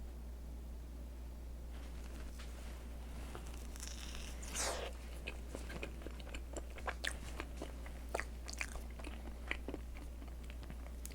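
Someone bites and chews a Starbucks chocolate crepe roll up close, with a few soft crunchy bites and small mouth sounds over a steady low hum.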